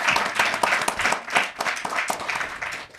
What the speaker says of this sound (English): Big clap for Maimouna HAIDARA,